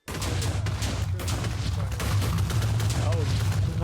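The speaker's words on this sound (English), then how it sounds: "Confetti bombs are the best." Fireworks and confetti bombs go off in rapid succession in a modded Minecraft server world, a continuous crackling barrage of pops and bursts with a low rumble, loud and steady throughout.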